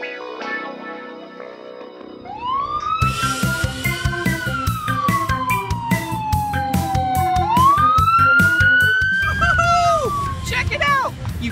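A police truck's siren wails and sweeps up and down, loud and close, over a rhythmic musical backing with voices chattering underneath.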